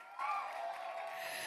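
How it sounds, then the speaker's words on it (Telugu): Audience applause and cheering at a Telugu movie teaser launch event, a broad crowd wash of claps and whoops swelling quickly and holding steady for a moment, somewhat distant and roomy. "ఒక్కసారి ఆయన కూడా చప్పట్లు ఓ వేసుకుందావా"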